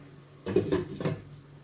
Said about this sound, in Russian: Теперь закроем крышкой.